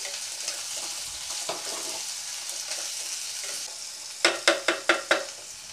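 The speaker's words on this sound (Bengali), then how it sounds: "পেঁয়াজটা বেশ ভাজা ভাজা করব।" Onion frying in oil makes a continuous low sizzle, followed near the end by a quick run of five sharp scraping taps as the pan is stirred.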